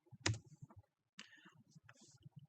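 Keystrokes typed on a computer keyboard while entering a command, a quick burst of clicks followed by scattered lighter taps, close and fairly quiet, with a voice talking over them.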